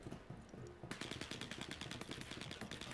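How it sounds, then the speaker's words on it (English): Rapid automatic gunfire from the Star Citizen 2.5 video game bursts in after about a second and rattles on continuously, loud and close. "Danny Head's shooting me"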